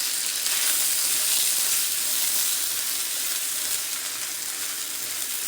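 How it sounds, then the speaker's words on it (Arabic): Rice and yellow lentils fry and get stirred in a pot, making a steady, close sizzle with soft scraping, and no voices over it. "ونقلبه بقى كويس."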